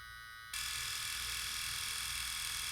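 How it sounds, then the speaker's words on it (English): A brushless-motor hair clipper with an all-metal housing switches on and runs alone as a steady, smooth, even hum, close and fairly quiet. "I've measured the noise of every clipper that has come out for the last 5 years"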